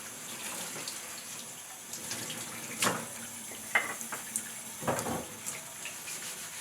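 Metal pieces scrubbed with a wire sponge under a running tap, a steady faint water hiss broken by scattered scraping clatters and splashes from close by, with no voices.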